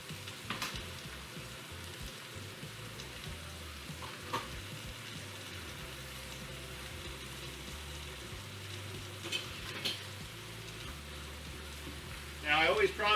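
Onions softening in a hot pan for a cauliflower steak beurre blanc dish give off a steady, quiet sizzle throughout, with a few brief clinks and stirring sounds.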